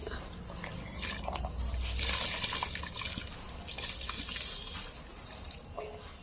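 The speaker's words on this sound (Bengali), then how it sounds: "চালটা আমি একবার তুলে দিচ্ছি জলের মধ্যে" Ghee-coated rice tipped into a pot of water for a village-style prawn biryani, giving a soft watery pour and gush with light clinks, fairly close, without talk.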